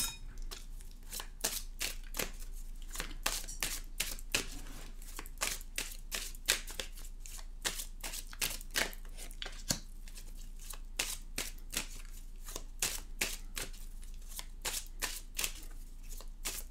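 Tarot cards being shuffled for a card reading, a long run of quick crisp riffling flutters and taps in irregular bursts, close and quiet with no talk.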